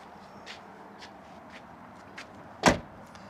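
A single solid thud of a 1997-2004 Nissan Pathfinder rear door shutting, after a few faint shuffling taps in a quiet space.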